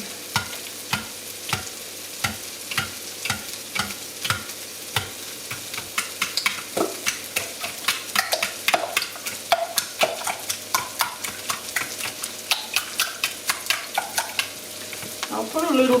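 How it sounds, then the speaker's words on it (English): About a dozen eggs get a light whisk in a jug to break up the yolks, a steady run of quick, crisp taps and scrapes that grows busier and slightly denser toward the end, close and moderately loud with no talking. "into this jug, and I'm just going to give them a light whisk"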